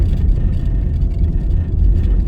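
Car driving through New Kingston on a quiet weekend, a steady low road rumble and engine drone continuing close and constant from start to end with no voices.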